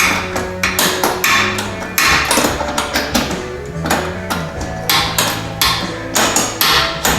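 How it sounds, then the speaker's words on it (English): A rapid series of close metallic taps and knocks comes from working on the airbox of a 2023 Yamaha Grizzly 700 EHS while a bolt is being removed. The hits are irregular and clattering and are heard without speech. "I'm just gonna reach in here, come to right here, take this bolt out"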